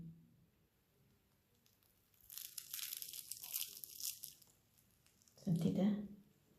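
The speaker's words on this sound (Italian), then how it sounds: "Crosta croccante." A handmade, golden puff-pastry croissant is broken open, giving a brief, close crackling and tearing of crisp flaky layers, followed by a louder low squish as the soft interior pulls apart.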